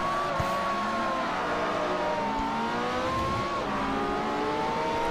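A Ferrari race car launches from the start at Mugello Club in Forza Motorsport 4, its engine howling steadily and climbing through gears with other cars droning close around it.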